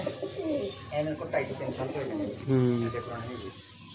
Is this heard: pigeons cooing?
yes